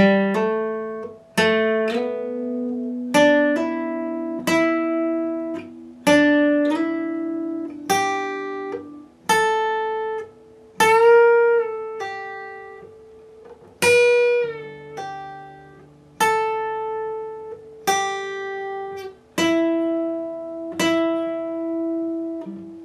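A slow electric guitar solo: distinct plucked notes, many bent or slid, each ringing out before the next, with no voices.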